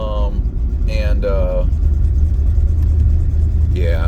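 A 1959 Cadillac sedan is driven in second gear as its engine hesitates. Low, constant road rumble and engine drone sit close in the cabin, with someone talking over it.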